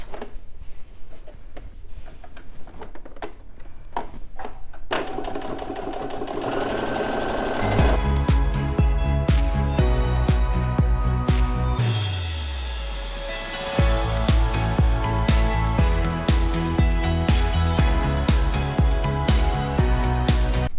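A sewing machine stitches a seam 0.5 cm from the edge around a quilted pouch. It makes a loud, close, steady mechanical chatter that speeds up and slows down, pauses briefly, then resumes, with no voices.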